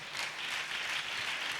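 Congregation clapping at a Sunday church service, a steady wash of hands heard from within the room, even and sustained throughout, with no voices over it.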